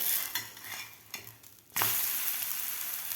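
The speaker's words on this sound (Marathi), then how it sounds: "आता आपण हे थालीपीठ पलटी करून घेऊया" A spinach thalipith flatbread sizzles steadily in a hot pan, with a brief scrape as it is flipped midway and the frying noise swelling louder afterward, continuous and close.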